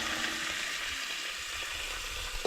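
Chopped vegetables sauté in a pan for pav bhaji, giving a steady, fairly loud sizzle with a low rumble and a brief stir or clink at the very end.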